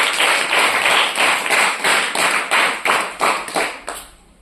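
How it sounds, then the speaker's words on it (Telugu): An audience at a Christian sermon claps together in a strong, even rhythm, about a dozen loud beats that fade slightly toward the end, with no voices over them. "కొట్టు చప్పట్లు గట్టిగా."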